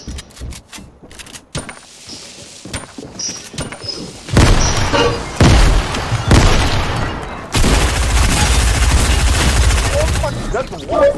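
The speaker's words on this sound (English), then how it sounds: "I'm gonna use grenade" A grenade goes off in Fortnite, with a burst of loud blasts and rattling gunfire following a stretch of scattered clicks and small impacts.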